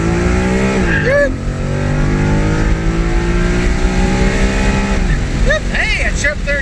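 Ford Mustang, 2015, with a 6R80 automatic on an E85 flex tune, launching from an 1800 rpm stall, its engine roaring loud and close as pitch sweeps up through the gears, with voices talking over it.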